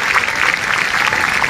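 A church congregation breaks into lively applause for God at an open-air revival service, a short burst of dense, even clapping heard close and loud.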